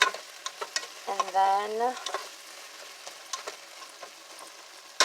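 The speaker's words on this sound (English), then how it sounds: "melt the butter down, stir it in, which it will melt really fast because this is really hot" Butter sizzles and melts in a very hot pan for clam chowder while being stirred, a steady crackling hiss broken by light scraping taps, with a brief spoken phrase.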